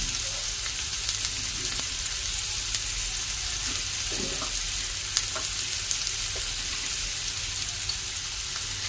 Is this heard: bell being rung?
no